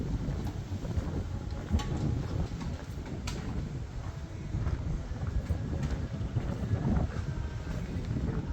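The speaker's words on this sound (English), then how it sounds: "if you can hear the wind, you can understand the breeze" Wind gusts roar steadily through a narrow old-city alley, a continuous broadband rush with buffeting on the microphone and no voices.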